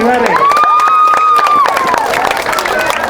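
Clapping and cheering from a crowd at a barangay feeding program in Amistad and Agno, Tayug, Pangasinan. Dense rapid claps are close and loud, with a voice calling out over them and lively crowd noise throughout.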